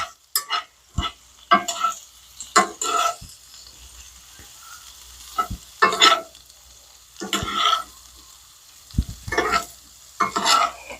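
Potatoes frying in butter in a pan while a hamburger, potato and egg dinner cooks, heard as repeated scraping, stirring bursts with sizzling between them, close and fairly loud, with no talk.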